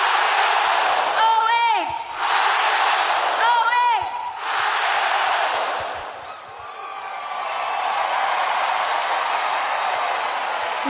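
Ohio crowd shouting the O-H chant: loud, roaring group yells in two bursts with a pitched shouted vowel, then a sustained crowd roar that dips and swells again.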